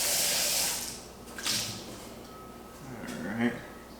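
A smoothie-like liquid pours into a regular bowl in a home kitchen, giving a soft, splashy pour that swells and fades twice while a voice talks over it.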